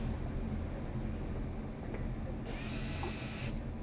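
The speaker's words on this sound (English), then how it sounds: "Once that's done, tighten up the security screws." Security screws on a pool equipment casing being tightened with a tool: a brief buzzing whir of about a second, heard over faint background hum.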